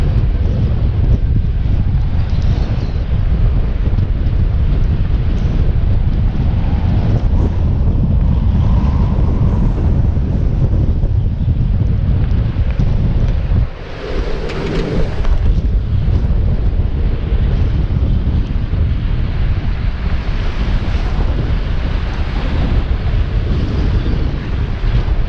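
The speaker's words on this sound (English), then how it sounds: "In the lee of the island by now, but if anything it's actually getting windier" Strong wind buffets the microphone while sailing singlehanded near an island on a Bermuda-to-Azores crossing, a constant loud low roar with gusty rumble and faint water wash, briefly dipping midway.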